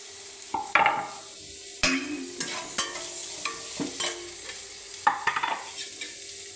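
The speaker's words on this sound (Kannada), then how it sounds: "ಅದೇ ಬಾಣಲಿಗೆ ಈರುಳ್ಳಿ ಹಾಕ್ಕೊಂಡು ಫ್ರೈ ಮಾಡ್ಕೊಳ್ಳೋಣ" Onions fry in an oil-filled pan for a tomato chutney, giving a steady sizzle broken by sharp spatula-against-pan scrapes and clinks as they are stirred at irregular intervals, close up with no talking.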